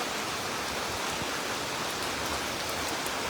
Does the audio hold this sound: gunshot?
no